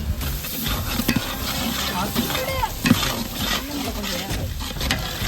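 Fresh curry leaves and ginger-garlic paste fry in oil for a Telangana mutton curry, crackling and sizzling close by while a spoon stirs and scrapes the pan, with a voice speaking over it.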